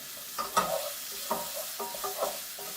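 Onions fry in a pan for Haitian black mushroom rice, a quiet sizzle punctuated by irregular scraping and clinking as a utensil stirs them.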